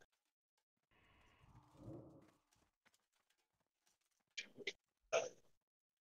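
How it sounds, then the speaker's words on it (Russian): Hiccups from a gamer on voice chat during an online raid: a quiet murmur early on, then two or three short, sharp hiccup bursts close together near the end. "Я икну."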